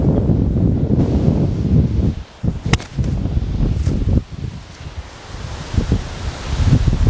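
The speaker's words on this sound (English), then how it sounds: "Where's this wind come from?" Gusty wind buffets the microphone out on a golf course, a loud broadband roar that drops away briefly around the middle and then surges back, with faint rustling between gusts.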